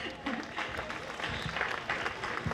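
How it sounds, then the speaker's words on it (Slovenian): Audience applause at an outdoor pro-life march event in Ljubljana, a steady wash of clapping lasting throughout, moderately loud with faint voices mixed in. "Bravo, lahko zaploskate."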